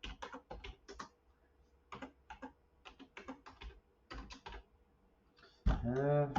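Keywords tapped out on a computer keyboard in quick bursts of clicks separated by short pauses, close and fairly quiet, with a brief louder noise at the end.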